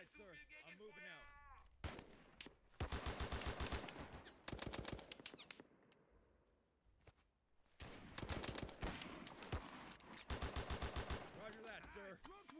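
Bursts of rapid gunfire and heavy weapon fire in a war video game, loud and repeated in clusters with a quieter lull in the middle, with voices shouting over the shooting.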